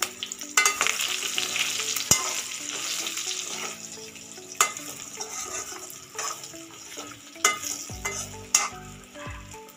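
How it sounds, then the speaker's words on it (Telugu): Curry leaves hit hot oil in a pan with bitter gourd and garlic, giving a steady crackling sizzle punctuated by sharp pops and a few clanks of a stirring spoon against the pan. "ఇప్పుడు ఇందులోకి మనం లైట్గా కొంచెం కరివేపాకుని కూడా యాడ్ చేసుకోవాలి."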